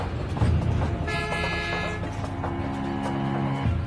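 A train arriving at a potash mine rumbles along while its horn blows a long, sustained toot, then fades into lower droning tones over rolling mechanical noise.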